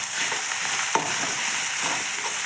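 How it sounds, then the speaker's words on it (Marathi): Chili paste and turmeric stir-fry in hot oil for a cucumber vegetable dish, giving a dense, even sizzle with a sharp clack and a few soft scraping stirs, close up and with no speech. "छान आपली तेलामध्ये मिरचीची पेस्ट परतत आहे"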